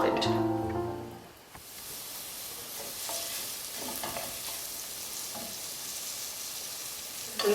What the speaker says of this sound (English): And we are going to let that saute for about 3 minutes or until the onions have